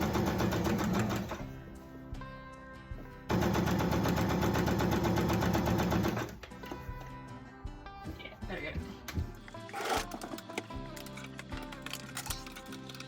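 A home sewing machine stitching a seam on a split side skirt, loud bursts of rapid mechanical whirring in two runs, then quieter handling noises with a voice speaking briefly.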